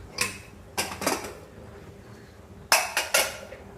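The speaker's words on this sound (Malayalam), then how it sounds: "ഇനി നമുക്കിതിലേക്ക് നേരത്തെ വേവിച്ച് വെച്ചിട്ടുള്ള ചോറ് ചേർത്ത് കൊടുക്കാം" Cooked rice being tipped into a pan and stirred, with sharp clinks and scrapes of a metal spoon against the pan coming in short clusters, and quiet gaps between them.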